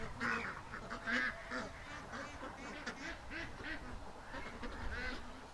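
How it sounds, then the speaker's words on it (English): Several ducks quack repeatedly at a moderate distance, overlapping calls in an irregular chatter over faint background noise. "we got ducks in the yard."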